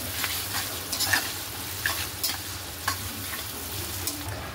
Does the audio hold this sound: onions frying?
yes